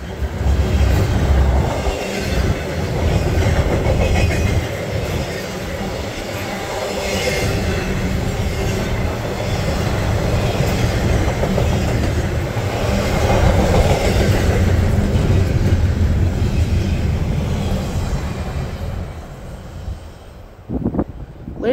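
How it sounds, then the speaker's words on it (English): A D&H train rumbles steadily past on the rails near Bainbridge, New York, loud and close, with wheel clatter and faint squeal, fading slightly toward the end. "one of the newer trains on the D&H fast approaches Bainbridge, New York"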